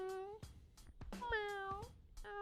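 Pet cat meowing up close: several drawn-out, rising and falling meows in quick succession, loud against a quiet room.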